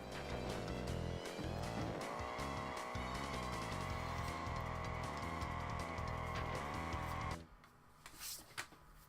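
Kart engines from Crash Team Racing drone loudly and steadily, their pitch rising and wavering, until they cut off abruptly near the end. A few brief game effects follow in the quiet.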